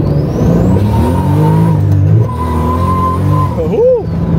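A BMW E82 engine revs hard close by, its pitch climbing and falling through several loud swells over about four seconds, ending with a quick rising whine.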